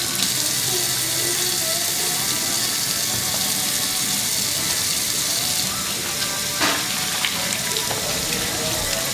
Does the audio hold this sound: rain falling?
no